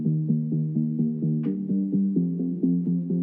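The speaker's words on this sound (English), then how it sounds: "I want to talk about these plucky chords." Plucky synth chords in an old-school progressive house style, a steady rhythmic pattern of short, bright stabs with a sustained low harmonic bed, played alone with no voices.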